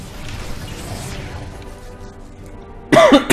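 A single sharp cough bursts out near the end, loud and close, after a few seconds of low background noise.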